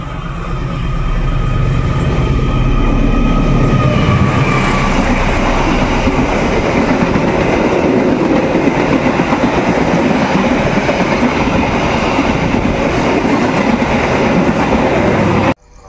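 The Kutojaya Selatan passenger train runs steadily along the rails in Indonesia, a loud continuous rumble with rhythmic wheel clatter throughout, no voices.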